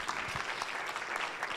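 An audience at a summer awards banquet gives a brief round of applause for a scholarship recipient, fairly faint, even clapping from a room of people.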